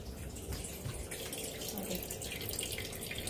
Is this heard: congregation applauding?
no